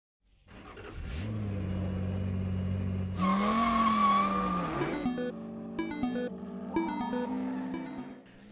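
Race cars roar at high revs in Forza Motorsport, engines climbing and shifting loudly while tires squeal through skidding corners, the whine rising and falling in steady, close bursts.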